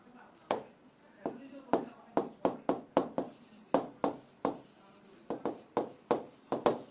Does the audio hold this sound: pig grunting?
no